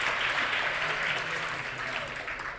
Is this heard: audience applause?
yes